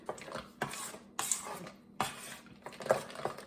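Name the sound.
stirring pumpkin waffle batter with chocolate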